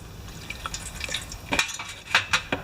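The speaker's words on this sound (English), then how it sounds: "Now let's just rinse this up" Water splashes and trickles over a Craftsman Kohler mower part with some corrosion, in a few short bursts that grow louder toward the end, with light clinks between them and no talking.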